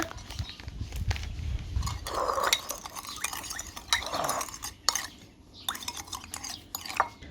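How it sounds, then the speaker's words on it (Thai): Small clinks and soft scraping of a spoon stirring monosodium glutamate powder into water in a container, an irregular close-up clatter with light liquid sounds and no talking. "ละลายผงชูรสนะคะ ละลายให้ ให้เข้ากันกับน้ำนะคะ"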